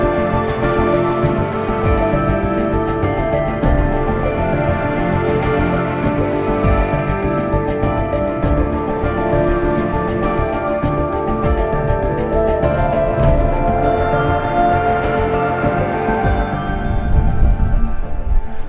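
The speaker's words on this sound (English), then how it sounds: "The wind's really picking up" Strong wind on a winter hike in the Lake District, a steady blustery roar buffeting the microphone throughout and growing rougher near the end, with no talking.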